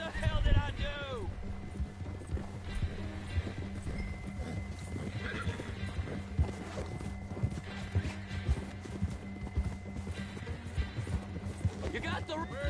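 A horse in the video game Red Dead Redemption 2 gallops with rapid rhythmic hoofbeats and whinnies at the start and end, under game sounds and someone talking.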